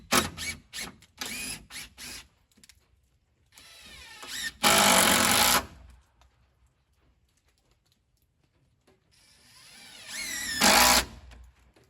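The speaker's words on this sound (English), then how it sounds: "putting in these 3-inch deck screws, putting several of them in each truss, just to help hold that gutter board on" A power drill drives 3-inch deck screws into roof trusses to hold a gutter board, giving short, close whirring bursts with clicks and pauses between screws, no talking.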